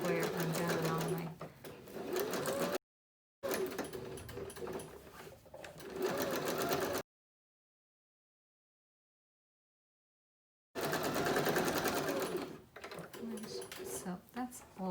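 Sewing machine stitching along the edge of a fabric square in a St Brigid's cross craft project, in several close, rapid whirring bursts separated by pauses, with some talk between stretches.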